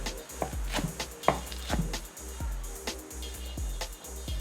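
A knife chopping a handful of spinach on a board, a series of distinct close taps in an irregular rhythm, moderately loud over a quiet background hum.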